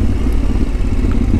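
Yamaha Tenere 700 motorcycle riding off-road, a loud, close, steady engine drone with low rumble and light clatter, no voices.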